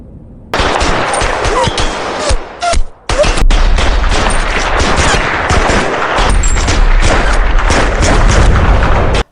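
Dense, loud gunfire in a shootout from the Korean film The Good, the Bad, the Weird crackles nonstop in rapid overlapping bursts, with deep booms underneath and a brief pause before the shooting resumes.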